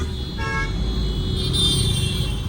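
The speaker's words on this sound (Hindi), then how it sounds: "तो ये गाइस देख लो शीशा खोलने के बाद का नॉइज" Traffic on a busy road heard through an open window of a Mahindra car, a steady rumble of passing vehicles with a couple of short horn toots near the start.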